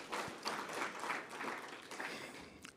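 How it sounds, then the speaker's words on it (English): Conference audience applauding the presenters and a professor: a room of hands clapping steadily for a few seconds, fairly quiet and a little distant, dense and even with no voices over it. "I think Prof and the presenters deserve another round of applause"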